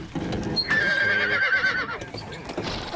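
A distressed horse neighs loudly in a shrill, quavering whinny lasting about a second, close by, with hoof clatter and shuffling around it and a voice briefly underneath.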